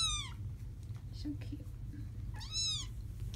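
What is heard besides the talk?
three-week-old foster kittens meowing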